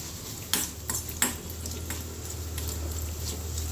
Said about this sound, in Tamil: சும்மா தான் நம்ம இந்த காளானா வதக்க போகிறோம்